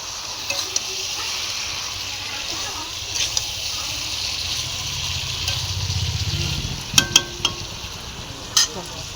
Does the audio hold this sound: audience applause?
no